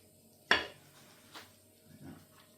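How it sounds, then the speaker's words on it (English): A ladle clinks against a plate and pot while lamb hotpot with potatoes is served, one sharp close knock followed by fainter scraping and a soft wet plop. "I'm going to use a ladle and just spoon it on."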